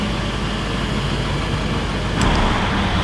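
A diesel truck passes on a busy roadway in a steady, loud roar of traffic that swells toward the end as the heavy vehicle draws close.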